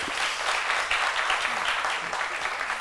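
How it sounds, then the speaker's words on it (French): A studio audience on a French midday TV show applauds in a steady, full wash of clapping that holds at an even level from start to finish. "Cassandra, qu'on applaudit"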